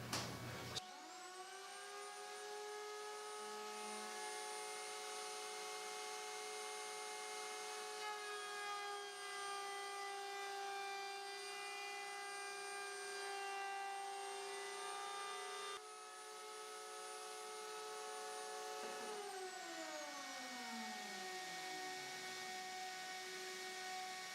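Power tool trims excess wood from a Telecaster Thinline guitar body, a steady high whine with a constant tone that holds throughout, then spins down near the end, heard alone and fairly close.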